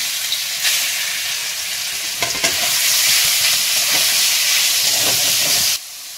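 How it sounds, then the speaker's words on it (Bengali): Meat fries in mustard oil in a pan, a loud continuous sizzle and hiss with a few stirring scrapes, cutting off abruptly near the end. "দেখো মাংসগুলো আগে ভেজে নিই"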